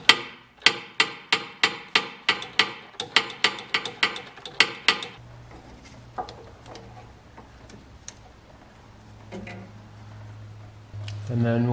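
A tool unscrews the 17mm gearbox filter cap on an Audi Q5, giving about a dozen loud, evenly paced ratcheting clicks up close, followed by quieter clunks and handling over a low steady hum.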